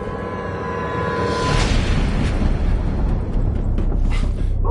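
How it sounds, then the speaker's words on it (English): Gunfire crackles in The First Descendant video game: loud, rapid bursts of shots over a dense roar of combat noise, growing more intense after the first second and continuing to the end. "Gunfire."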